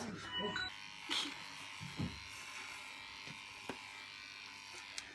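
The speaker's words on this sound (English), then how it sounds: "We're going to shave Holly's bum." Electric clippers buzz steadily close by while a dog's rear end is shaved at home, a continuous hum with a few brief handling bumps and light voices in the background.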